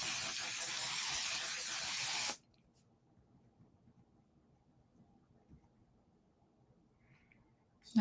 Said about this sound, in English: I think I'll spray my face now.